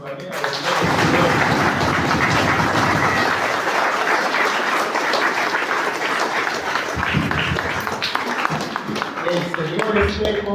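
Sustained applause from the congregation at a Christmas Eve candlelight mass in an Andean church, a loud continuous patter of many hands clapping with voices mixed in.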